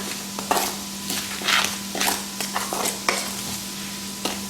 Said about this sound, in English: And then you stir it up some more.